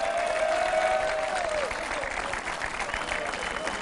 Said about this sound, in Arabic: يعطيكم الصحة ويستحقوا تصفيقة كبيرة منكم